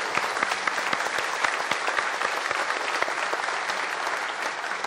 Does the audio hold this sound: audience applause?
yes